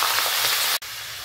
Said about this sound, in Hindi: इस ऑयल में हम चिकन डाल के उसको इंशाल्लाह फ्राई करेंगे